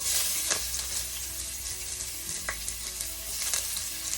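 Gizzard garnish sizzles steadily as it is poured into hot oil in a pot, a continuous frying hiss with a few brief louder crackles and stirring sounds, with no voices.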